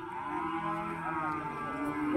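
A Limousin calf at the Rogojampi cattle market in Banyuwangi gives one drawn-out, mid-level moo, with faint market background behind it.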